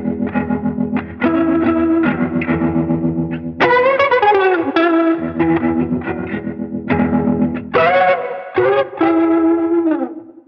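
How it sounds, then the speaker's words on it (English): Electric guitar through a TC Electronic Vibraclone rotary speaker pedal on its fast tremolo-like setting, chords and melodic phrases swirling with a pulsing rise and fall in volume, loud and continuous with no talking. "we're going to get the impression of a faster moving speaker, and you're actually going to hear the volume going up and down as if we were using a tremolo pedal"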